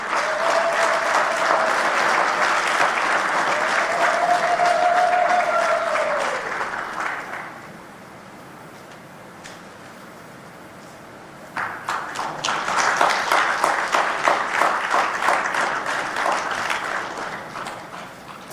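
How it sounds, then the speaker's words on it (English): A big audience applauds His Excellency at the launch of the African Peer Review Mechanism. Sustained, dense clapping runs for about seven seconds, dips to near quiet, then surges back strongly with a crisp, rhythmic edge. "Another big round of applause"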